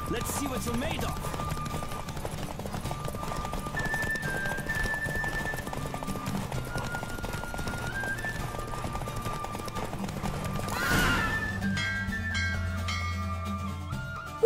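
Rapid hoofbeats of a horse racing at full gallop in The Witcher 3 carry on for several seconds, with a brief neigh near the start and a louder rush near the end, backed by music.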